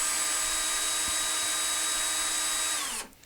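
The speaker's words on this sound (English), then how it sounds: "we can even run the drill fast." A power drill runs fast and steady, spinning a lathe leadscrew test rig with a loud, continuous high whine that winds down and stops near the end.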